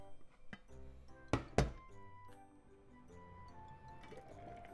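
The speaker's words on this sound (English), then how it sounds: "Cover with the lid and just bring it to boil over medium-high heat" A pot lid set down on a cooking pot of tuna rice, two sharp close thunks a fraction of a second apart, then quiet kitchen room tone with a faint tick or two.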